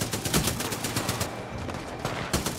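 A Titanfall 2 gun fires in a steady stream of fast, loud automatic shots, dense and close, thinning briefly before another burst.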